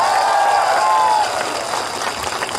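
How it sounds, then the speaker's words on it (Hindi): Crowd applause at a political rally of a mass gathering, a broad wash of clapping that starts strong and slowly thins, with a whistle-like tone fading early on. "प्लीज चित्तू बाबू के लिए भी एक ताली"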